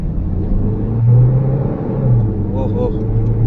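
A Toyota Fortuner SUV accelerating, a steady low engine rumble that swells and eases from inside the cabin, with a voice speaking over it.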